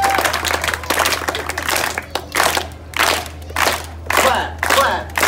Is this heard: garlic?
no